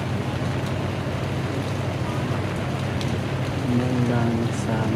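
Steady rain falls at night along the canal-side restaurant area of Venice Taguig, a dense continuous hiss that holds even throughout, with a faint hum and a brief tonal sound near the end.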